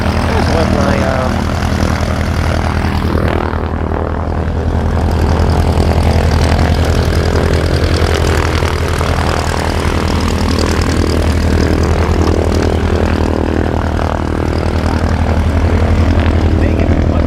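A propeller airplane flies overhead, its steady low engine drone and buzzing airscrew filling the air continuously and fairly loud, with some voices faintly underneath.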